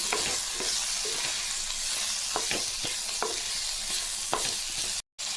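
Masala for a goat leg curry sizzles in a pan, a dense continuous frying hiss broken by frequent sharp scrapes of a spoon stirring, close up with no talking.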